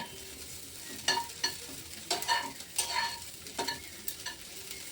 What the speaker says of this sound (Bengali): আমার সয়াবিন ভাজা কমপ্লিট হয়ে গেছে গো